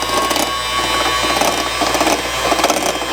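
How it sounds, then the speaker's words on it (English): An electric mixer whirs loudly and continuously while beating Milo and coffee dalgona, a steady buzzing motor with a rattling, gear-like texture, right next to the microphone with no talking. "you gotta use your electric mixer now"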